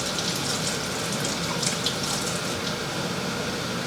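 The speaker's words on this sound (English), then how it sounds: "so I got to rinse my fingers" Tap water runs steadily into a sink as sticky fingers are rinsed under the stream, a continuous close splashing gush with no pauses.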